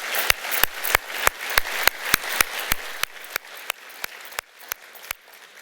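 Audience applause for fund managers at an investment forum: a scattered, evenly spaced run of individual claps, fairly close and moderately loud, thinning and fading toward the end.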